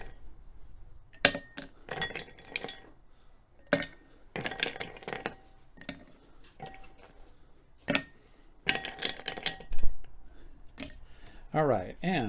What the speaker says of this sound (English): we're going to start with some ice in our mixing glass